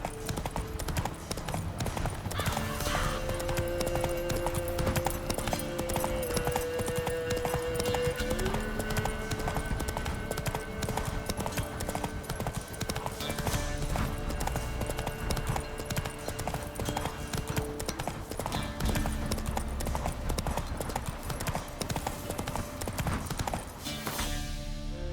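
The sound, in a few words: horse Roach galloping in video game Witcher 3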